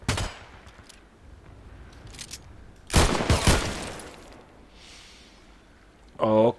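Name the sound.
gunfire shooting through a container in Contract Wars video game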